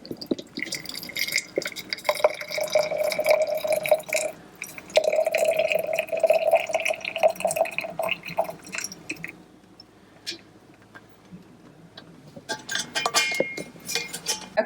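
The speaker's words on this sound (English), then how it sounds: "I'm going to take this and strain it into a glass jar." Homemade plant-based fish sauce is strained into a glass jar, with gurgling, dripping liquid and occasional glassy clinks, close and fairly loud, tapering to quiet drips before a final rattle.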